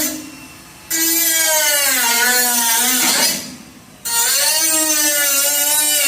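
A high, whining power tool cuts rusted metal from a car roof in two long loud passes, its pitch sagging and recovering under load, with a brief lull between them.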